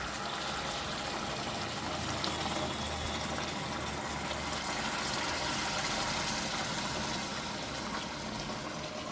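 Liquid poured into a simmering pot of fish curry made with Apolo fish: a steady, unbroken rushing pour that stays loud and even from start to finish.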